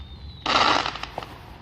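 A Fourth of July firework bursts with a sudden loud crackling blast, followed by a few scattered pops and snaps as it fades, heard outdoors at a moderate distance.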